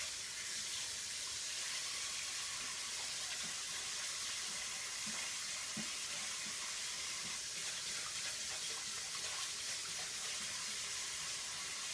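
Water runs steadily from a faucet into a sink while a chalk stencil is rinsed clean, a continuous broad hiss and splash throughout, close and uninterrupted, with no talking.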